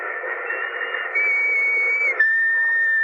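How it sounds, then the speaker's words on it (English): A whistle sounds in a 1948 old-time radio drama of The Shadow, a sustained shrill tone held for about two seconds and then shifting to a second steady pitch, heard alone with no talk. "Remember that whistle?"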